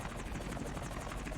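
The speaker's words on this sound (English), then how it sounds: "time to destroy another little helicopter" Helicopter in a modern James Bond 007 video game, a rapid, even rotor chop blended with engine whine, continuous and fairly faint over the short stretch.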